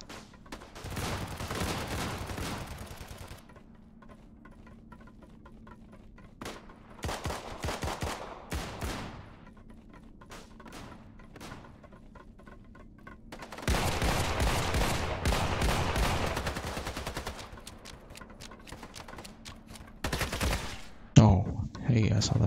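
Bursts of shotgun fire in the battle royale game Islands of Nyne, several loud blasts in clusters across the stretch, with game ambience between and a player talking at times.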